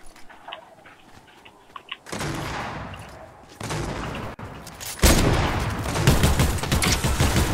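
Fortnite gunfire: after a quiet lull, dense bursts of rapid shots crackle in sustained volleys, loud and continuous, with a brief gap before a heavier, louder barrage.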